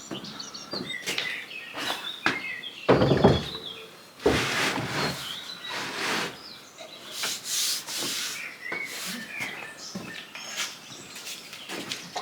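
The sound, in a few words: rubbing down cottage window frame by hand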